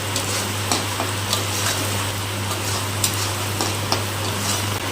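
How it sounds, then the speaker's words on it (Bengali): Aromatic rice fries in a pan on low heat with a steady, gentle sizzle, broken by small regular clicks as it is stirred, with no voices. "কম আঁচেই চালটা ভেজে দিতে হবে"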